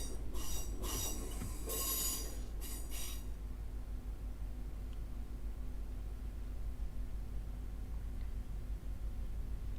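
A train rolls along in a train simulator video game with a steady low rumble throughout, and sharp squealing wheel screeches in bursts during the first three seconds.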